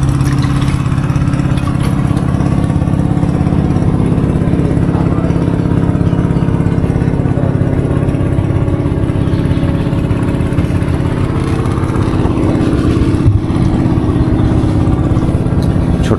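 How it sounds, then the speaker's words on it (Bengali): Small fishing trawlers travel together on Kaptai Lake, their engines producing a loud, steady low drone and chug that stays constant throughout, with no talk. "না, একসাথে এই যে ট্রলারগুলো যাচ্ছে।"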